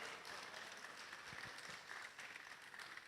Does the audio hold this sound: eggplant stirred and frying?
no